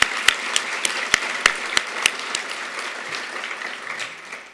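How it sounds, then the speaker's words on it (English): Audience applause at a computing award ceremony, a moderate burst of clapping with a few sharp individual claps standing out early, gradually tapering off toward the end. "we'll still give her a round of applause"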